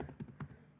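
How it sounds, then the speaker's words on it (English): Quiet keys on a computer keyboard tapped in a quick irregular run of about five clicks, close and soft, with no talking. "we're going to be typing some random characters"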